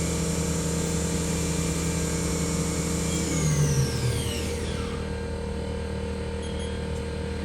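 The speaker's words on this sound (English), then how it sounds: "top speed of the spindle" A 2006 Haas VF-4B CNC vertical machining center runs its spindle at top speed. It makes a loud, steady mechanical whine with a falling tone partway through, then settles into a constant hum, and no one speaks.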